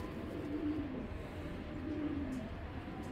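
A female Kaldom pigeon coos softly twice, each a low throaty call with a pause between, faint against steady background noise.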